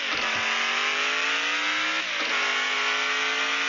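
A truck engine in the Offroad Outlaws desert map revs hard, a loud, raspy continuous drone whose pitch climbs steadily, dips briefly at a gear change, then climbs again.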